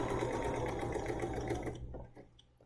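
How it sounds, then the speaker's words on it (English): A BERNINA sewing machine sews a standard-length straight stitch, a fast, steady mechanical whir that stops abruptly after under two seconds, leaving faint clicks. "let's sew a line that is just a standard straight stitch length, nothing fancy."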